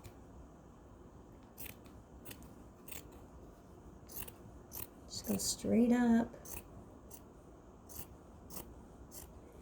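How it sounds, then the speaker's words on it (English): Scissors snip through fabric for a no-sew superhero cape, a series of short, faint cuts spaced across the span, with a brief spoken instruction in the middle. "your scissors will actually smooth it out for you as you go up."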